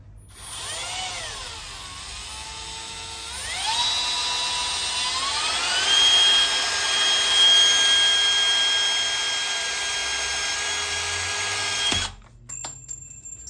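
Power drill driving and pulling out screws during electrical work, whining up and down in pitch with sustained runs and speed changes, close by, cutting off near the end with a few clicks and no talking.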